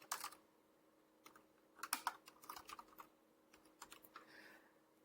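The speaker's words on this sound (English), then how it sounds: "Just typed in my 2 words" Search words being typed on a computer keyboard: quiet, close key clicks in irregular bursts, with a few sparse taps and then a quicker run of keystrokes, with no talking.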